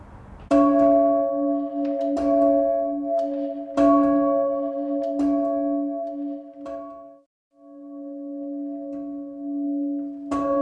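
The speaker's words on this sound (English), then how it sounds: "When the bell slows, the clapper overtakes it and hits it." A church tower bell rung by bell ringers strikes repeatedly with strong, sustained harmonic tones, each stroke ringing on and overlapping the next, with a brief gap before the tolling resumes.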